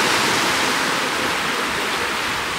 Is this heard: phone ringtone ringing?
no